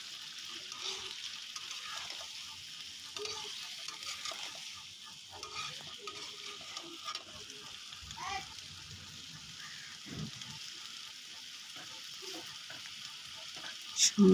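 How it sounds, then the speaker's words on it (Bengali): Fish curry with bilimbi being stirred and mixed in a pan, a soft steady sizzle with scraping and stirring strokes throughout, no talk. "বিলম্বগুলো দেওয়ার পর আবারও সুন্দরভাবে আমি সবগুলো উপকরণ একসাথে মিশিয়ে নেব।"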